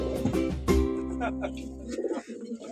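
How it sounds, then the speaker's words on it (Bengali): Babu fancy pigeons in a loft giving soft, low, throaty coos close by, with a couple of rolling calls at the start and people talking over them. "এই বাবু কবুতর।"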